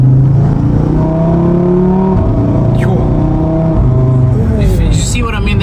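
Audi RS3 engine revving, a steady loud drone with rising and falling harmonics as revs climb and shift, heard from inside the car with people talking over it.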